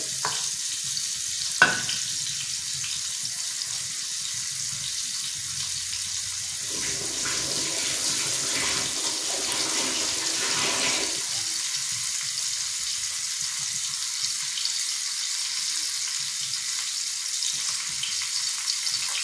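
Rawa-coated bangda mackerel frying in a pan, Malvani Konkan style, with a steady broadband sizzle throughout, one sharp clatter early and a brief spell of louder bubbling midway, no talk.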